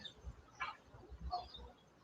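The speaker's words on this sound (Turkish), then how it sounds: "Burada şu anda kuş sesleri var." A few soft, brief bird calls chirp faintly at a distance over a low, steady background hum.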